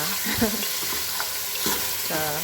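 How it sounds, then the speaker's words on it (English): Shiitake and woodland mushrooms sizzle steadily in a hot pan while a utensil scrapes and stirs them in a few short strokes, with a faint voice in between. "just stirring it. I'm trying to make sure it's not sticking."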